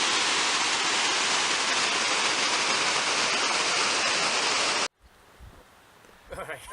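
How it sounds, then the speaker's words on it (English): A small waterfall in Kings Canyon National Park, on the trail through Evolution Basin, roars close and steady for about five seconds before cutting off abruptly. Quieter outdoor sounds and some faint voices follow. "There's a little bit of a waterfall here."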